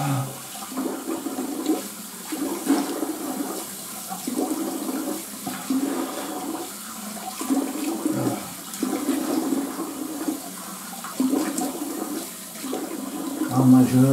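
Water runs from a bathroom tap while someone rinses their face, a steady splashing flow broken into bursts as hands cup and splash, with a flush-like rush in the mix and no speech.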